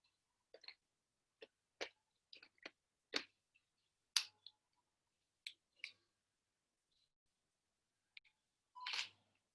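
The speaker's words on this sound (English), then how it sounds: "When I click this camera, you'll be listening a sound like click." A camera shutter clicks repeatedly, a dozen or so sharp, isolated snaps spaced irregularly in near silence, ending with a slightly longer mechanical whir-click.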